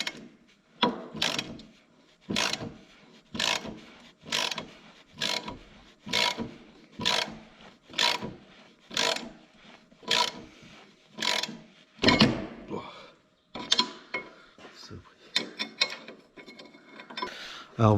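A ratchet wrench tightens rusty nuts on a Spra-Coupe sprayer, repeated rhythmic ratcheting strokes with grinding clicks, close and steady, about a dozen pulls with brief pauses between.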